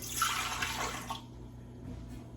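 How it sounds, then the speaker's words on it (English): Liquid bread mixture pours into a stand mixer bowl fitted with a dough hook, a soft splashing gush that lasts about a second before fading into quiet kitchen background. "I'm going to go ahead and pour that into my stand mixing bowl."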